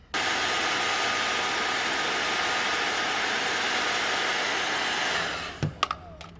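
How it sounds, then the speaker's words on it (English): A hair dryer blows steadily and loudly on a BMW M3's vinyl wrap, a constant airy whir that cuts off near the end, followed by a few faint clicks and handling knocks. "I've got a hair dryer, so we're gonna see how well this works."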